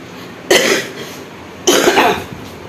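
Two separate coughing bursts from one person, the first short and the second longer and harsher, close to the microphone with quiet room tone between them.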